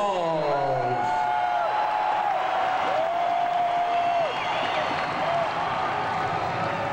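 Crowd at a heavy metal concert at ARCO Arena in Sacramento, cheering and applauding as one continuous wash, with a sustained whistle-like tone over it and some voices mixed in.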